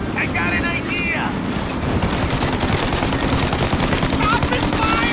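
Sustained automatic gunfire from a machine gun in a Mafia game cutscene, dense rapid bursts filling the whole stretch at close range, loud and continuous.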